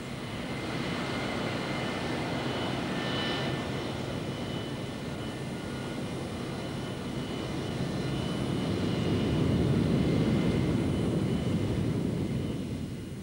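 A Tu-22 Backfire swing-wing bomber roars with jet engines in a broad, loud rushing drone that swells toward the end, with a faint whine riding above the rumble.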